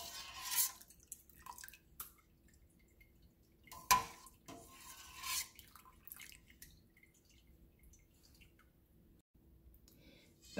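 Cheese curds and whey poured into a colander, giving quiet, intermittent drips and soft splashes with a few louder pours near the start and middle, mostly faint and close.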